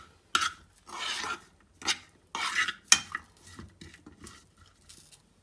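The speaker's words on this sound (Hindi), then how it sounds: "हमें इसे बहुत पकाना नहीं है, बल्कि थोड़ा सा बस सौटे करना था।" Chicken filling for a cheese paratha being stirred in a pan with a spoon: a series of scraping, clattering stirs in short bursts with brief pauses, plus a light sizzle beneath them, close and fairly quiet.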